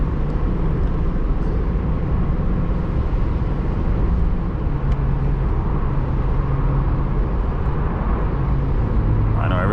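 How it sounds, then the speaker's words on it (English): A C8 Corvette Z51 driven on a snowy road, heard from inside the cabin as a steady, loud low engine and road rumble that holds constant throughout. "Driving a C8 Z51 in the snow"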